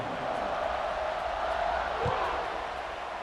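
Stadium crowd in the College Football 26 video game roaring steadily at kickoff, a broad continuous wash of cheering with a brief low thump partway through.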